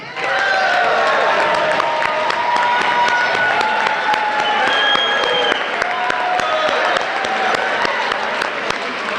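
An audience cheers and applauds the standing graduating class of 2017 at a Decision Day ceremony, a sustained, loud wash of clapping with whoops and shouts layered over it for the whole stretch.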